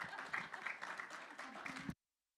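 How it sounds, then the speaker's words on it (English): Applause from the audience at a city council meeting, a fairly steady round of clapping mixed with some voices that cuts off abruptly near the end. "One more round of applause"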